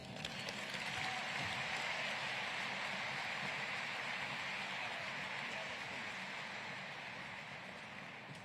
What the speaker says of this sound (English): Please join me in a round of applause for our distinguished alumnus